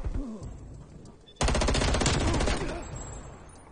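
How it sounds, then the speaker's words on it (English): Rapid automatic fire from the FFAR 1 rifle in Call of Duty: Cold War, a loud sustained burst of about a second after quieter game ambience, then fading echoes and background game sounds. "Testing out this new gun. So what? The FFAR1."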